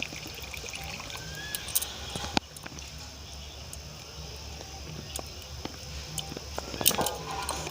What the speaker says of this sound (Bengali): আরও একটু জল দিয়ে দিচ্ছি, যাতে পুরো আলুগুলো ডুবে থাকে।